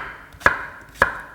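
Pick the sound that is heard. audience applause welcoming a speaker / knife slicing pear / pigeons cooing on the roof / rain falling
knife slicing pear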